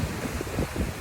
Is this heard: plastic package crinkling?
no